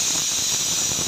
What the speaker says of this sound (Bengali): আলহামদুলিল্লাহ, 2 সিটি দেওয়ার পরে এরকম শব্দ বের হবে।